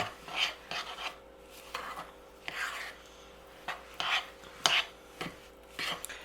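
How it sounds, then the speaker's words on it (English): Coconut truffle mixture stirred together in a bowl, giving close, intermittent scraping and rubbing strokes in irregular bursts with quiet gaps between them; no one talks. "mix it all together"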